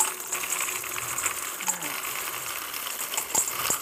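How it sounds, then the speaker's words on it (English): A food processor finely chops almonds with a continuous high, gritty whirring drone that stays fairly even and close throughout. "this is going to be kind of a fine cut on the almonds"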